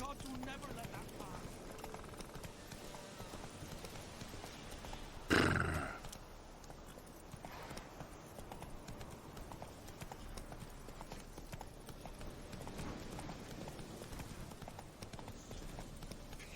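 Roach, a horse in The Witcher 3, gallops with rapid, steady clip-clopping hooves throughout, a short loud burst near the middle, with background game sound.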